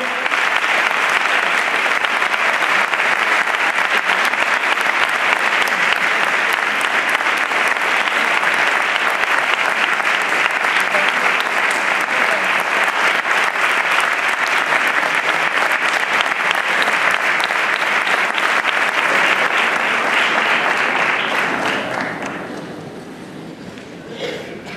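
A large audience at a tribute ceremony for a musical association's 30th anniversary applauds loudly and steadily for over twenty seconds before the clapping thins and fades.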